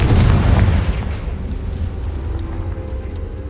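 A Confringo explosion spell goes off in Hogwarts Legacy: a loud, close blast bursts at once, then fades into a long, rumbling decay over several seconds.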